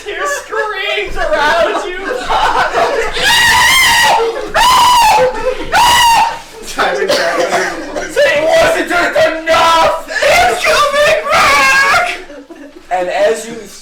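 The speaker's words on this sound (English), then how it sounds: "As you turn down, you just hear screams around you." Frantic screaming and shrieking from a crowd of people, loud and sustained in repeated bursts, with some yelling and laughter mixed in, suited to panicked riders as a dragon dives.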